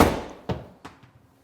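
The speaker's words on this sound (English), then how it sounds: "I hit the ball strongly" A golf club strikes the ball in a low, punched two-thirds swing with the wrist hinge taken out, heard as a sharp close crack followed by a few duller thuds fading away.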